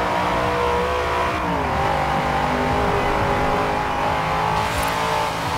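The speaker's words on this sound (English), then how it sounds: "The Don JDM, first place, ladies and gentlemen, and in the Dodge Charger, and a very nice win indeed" A Dodge Charger race car engine roars loudly in Forza Horizon 4, holding a sustained high rev with shifting pitch and a brief tire squeal near the end, with no voices.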